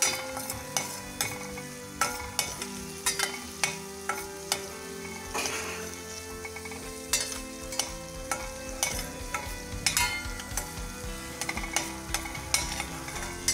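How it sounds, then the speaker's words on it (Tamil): Green chillies and turmeric powder sautéing in a pan for a no-onion, no-garlic chana curry, with rhythmic spatula scrapes and clinks over a steady, close sizzle and no voices. "இப்போது ஒரு நிமிஷம் இதை நல்லா நம்ம சாட் பண்ணிடுவோம்."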